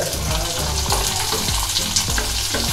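Sliced onion tipped into hot oil seasoned with asafoetida over a medium gas flame, for spicy fried idli, sizzling loudly and continuously with repeated scraping stirs in a steady rhythm, close up and with no talking.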